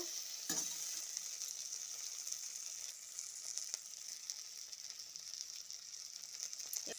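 Elephant apple chutney fries in a pan with ground spices, a continuous soft sizzle with a few sharp scrapes and stirring clicks, close and alone without talk.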